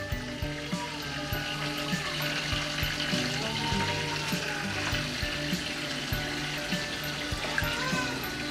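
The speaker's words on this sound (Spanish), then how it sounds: "Ahí hemos encendido ya la cascada." Hang-on-back waterfall filter on an aquarium running, giving a steady close trickle and splash of falling water with a faint hum and sizzling bubbles underneath.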